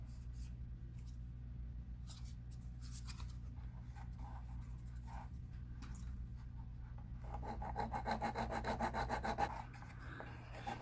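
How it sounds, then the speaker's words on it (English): Sandpaper rubbed by hand across a wooden part during a boat refit, soft scattered scrapes at first, then a steadier run of quick back-and-forth strokes, faint and close over a low steady hum. "I just want to take some sandpaper"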